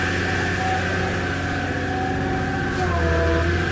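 A high-mileage Volvo five-cylinder engine with 541,000 km and a low oil pressure fault idles steadily up close, a continuous low hum with a slight rise in level near the end.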